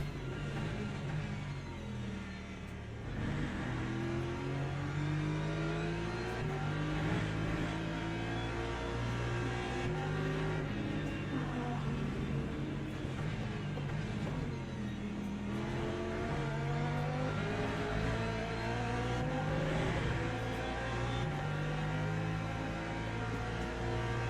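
LMP2 race cars in a racing video game swarm past, engines revving and whining loudly with rising and falling pitch as several cars accelerate and shift gears continuously.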